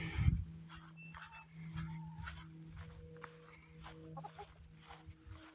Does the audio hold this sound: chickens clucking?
yes